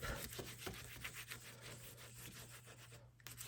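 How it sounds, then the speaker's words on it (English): A bone folder or similar tool rubbing and burnishing down the top of paper folios, giving repeated soft scraping strokes close by, steady and fairly quiet with a brief pause near the end. "you can go ahead and burnish from the top"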